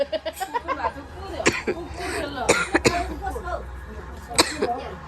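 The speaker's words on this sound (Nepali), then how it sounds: "ब्याकग्राउन्ड है यो खोकी चाहिँ" Several short coughs break out amid nearby chatter and voices at a family Dashain festival gathering in Nepal, with one or two louder bursts standing out.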